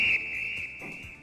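A shrill final whistle sound effect, a single sustained high tone, loud at the start and then held at a fainter level.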